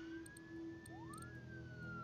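An ambulance siren in the city-building game SimCity, a faint steady tone with a rising sweep, set under soft background game noise and brief high chimes.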